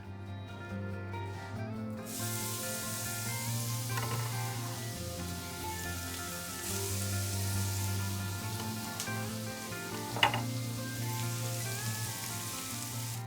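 Chopped onions hit hot bacon drippings in a skillet, bursting into a loud, steady sizzle that stays dense and close throughout, with a brief clatter partway through.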